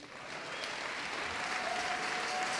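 A church congregation breaks into applause that swells into a steady wash of clapping and holds, fairly distant and filling the room.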